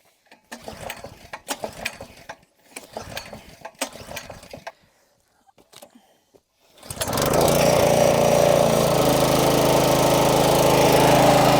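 A small engine that had been smoking and smelling of burned parts restarts after a few seconds of intermittent clattering, then settles into a loud, steady mechanical running drone close by.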